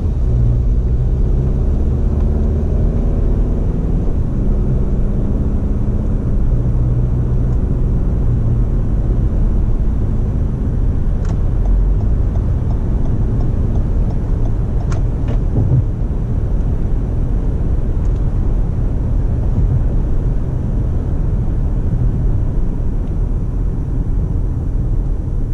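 Steady low road rumble from inside a 2019 Toyota RAV4 XLE AWD cruising on a highway, a constant engine and tyre drone with faint brief ticks and no talking.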